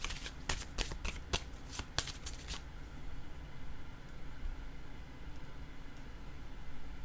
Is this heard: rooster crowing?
no